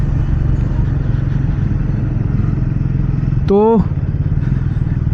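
A moving motorcycle with traction control runs with a steady, loud engine drone throughout, and someone speaks briefly over it.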